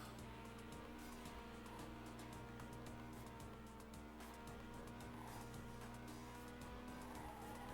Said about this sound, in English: the problem with the car here is that it turns extremely quickly